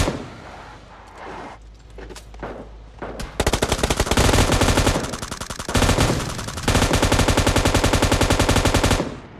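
Rapid automatic gunfire from the 'big pineapple' gun in a video game, loud dense bursts that build after a quieter opening of scattered shots and keep hammering almost continuously to the end.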